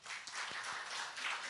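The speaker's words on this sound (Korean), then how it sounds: "박수 한번 하겠습니다" A church congregation applauds, a quiet, fairly distant patter of many hands clapping that fills the short stretch without speech.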